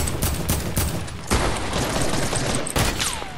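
Rapid bursts of automatic gunfire crackle in a shooter video game match, with dense overlapping shots at close range in a few short volleys and no talking.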